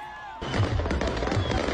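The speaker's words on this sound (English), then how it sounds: "Tigray's capital, Mekelle, erupted in fireworks after Ethiopian soldiers retreated" Fireworks bursting over Mekelle, the capital of Tigray, during celebrations after Ethiopian soldiers retreated: after a short quieter lead-in, a dense, continuous stretch of crackling pops and booms fills the air with a crowd-like background.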